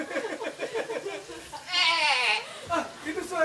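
A goat bleats in a wavering, drawn-out call lasting about half a second amid a storytelling scene, with voices talking around it.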